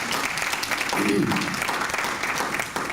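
A conference audience at the Clearing the Air in Communities of Color opening session breaks into brief, full applause, a thick steady wash of clapping throughout the short burst.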